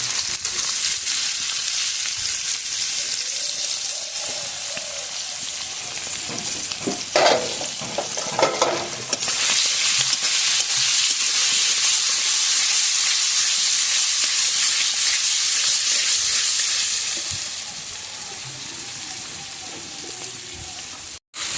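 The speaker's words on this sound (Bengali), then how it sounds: "তো আলু আর টমেটোটা আমার দেখো ভাজা হয়ে গেছে" Potatoes and chopped tomatoes with turmeric frying in a pan for egg curry, a loud, steady hiss and sizzle close up, with a burst of stirring clatter partway through before it eases slightly near the end, no voices.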